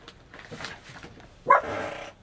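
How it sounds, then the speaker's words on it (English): A dog gives a single sharp bark close by in a quiet room, after a moment of faint background noise. "Sorry about the dog."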